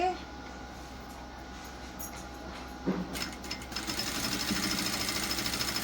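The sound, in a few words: sewing machine stitching a blouse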